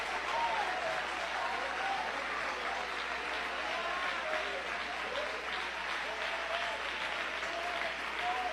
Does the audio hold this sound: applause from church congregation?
yes